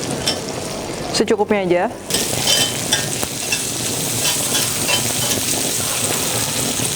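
Onion sautéing in butter on a grill plate gives a loud, steady sizzle that fills the whole stretch, with a brief spoken remark near the start.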